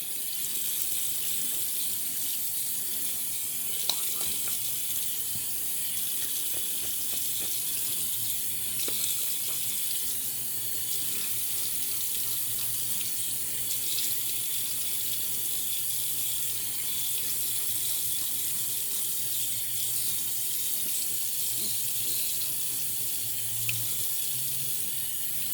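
Tap water runs steadily into a bathroom sink while a man wets his face before a wet shave, a continuous close hiss and splash with no talking.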